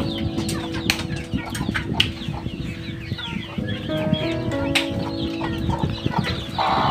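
Native chickens and their chicks cluck and peep steadily at close range, with bursts of wing flapping mixed into a busy farmyard din that includes some distant rooster-like calls.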